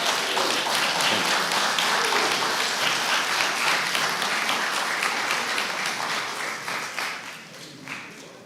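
An audience applauds Broderick at a summit gathering, dense sustained clapping at steady strength that thins and fades toward the end.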